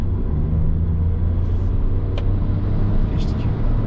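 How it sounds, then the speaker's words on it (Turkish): A 2020 Hyundai i20 with a small three-cylinder engine hums at a low, steady drone while driving, with road rumble and cabin noise throughout. "3 silindirli motorun böyle tatlı bir sesi var bu arada."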